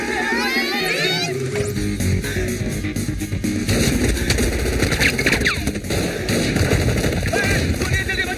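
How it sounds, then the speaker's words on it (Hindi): Gunshots in a Hindi comedy film, loud crackling bursts mixed with music and shouting voices, dense and continuous throughout. "गोलियां चल रही है"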